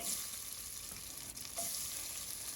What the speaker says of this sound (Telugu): స్టవ్ మీద కుక్కర్ పెట్టి ఆయిల్ వేసి పోపు గింజలు వేసుకోవాలి ఆవాలు మినప్పప్పు పచ్చిశనగపప్పు జీలకర్ర ఎండుమిర్చి కరివేపాకు ఇవన్నీ వేసుకోవాలి